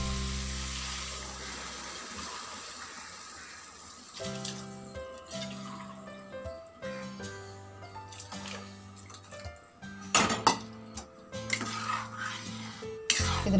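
Hot water poured into a pan while making rava khichdi in a home kitchen, a soft rushing pour followed by clinking of utensils and stirring, fairly faint and close with no talk.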